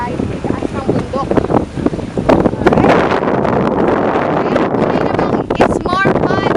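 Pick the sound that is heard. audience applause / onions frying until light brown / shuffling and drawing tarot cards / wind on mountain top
wind on mountain top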